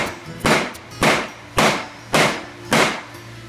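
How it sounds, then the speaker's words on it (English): A nailing hammer strikes a dibond sign sheet that was scorched with a blowtorch: five loud, sharp, evenly spaced impacts, each with a short ringing decay, close up and without speech. "Then, I'm going to hit it with a nailing hammer,"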